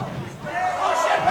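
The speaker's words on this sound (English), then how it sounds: "Everybody in the crowd already shouting" A crowd at an esports fighting game tournament shouts and roars in a dense, continuous wall of voices, loud and close, with a commentator's speech mixed in.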